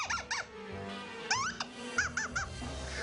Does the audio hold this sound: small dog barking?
no